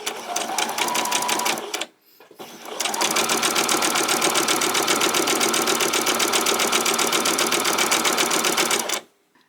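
A sewing machine set to its longest stitch runs a basting stitch along fabric for a white summer top, a steady rapid mechanical whir close by, pausing briefly near the start and then running continuously before stopping.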